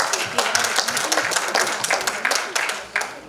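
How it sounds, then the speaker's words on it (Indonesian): Audience applause at a church psalm-reading competition: steady, dense clapping from a crowd, with a few louder swells throughout. "Kita beri aplaus sekali lagi."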